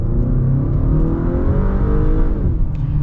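A 2022 Acura RDX A-Spec with a 10-speed automatic accelerates hard in sport mode, the engine note rising steadily and loudly for about three seconds, heard from inside the car.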